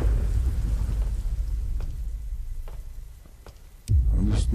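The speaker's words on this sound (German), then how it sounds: "Und der Donner macht mir jetzt schon Angst" Thunder rumbles through a rainy night in the horror game Slender Mansion, a low continuous roll under steady rain that fades, then a sudden loud crack and boom near the end.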